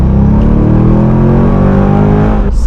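A Corvette C5 Z06 on new wheels and tires pulls hard from a second-gear roll, its engine roaring loud and close with a rising, steady pitch through the acceleration before a brief shift-like break at the end.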